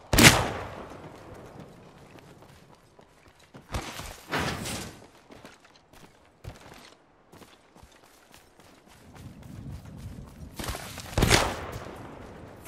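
Gunfire from the Apex Legends video game on PC comes in several sharp bursts spread across the stretch, with quieter scattered shots, footsteps and game sounds in between. Bursts are moderately loud and there is no talking.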